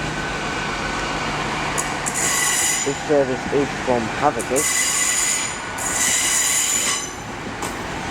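Class 800 train 800-103 pulls into Leeds station, rumbling and clattering with a few squealing wheel noises, while a station announcement plays over it and people speak nearby.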